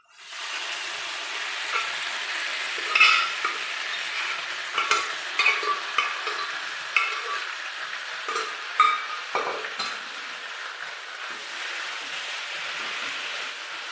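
Beef for egg bhurji sizzles steadily in a hot pan while a utensil stirs and scrapes it in irregular knocks, close and fairly loud, with no voices.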